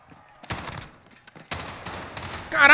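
Three-round burst gunfire in the video game Call of Duty Warzone sounds in a few sharp clustered volleys, with quieter game noise between and a louder burst at the end.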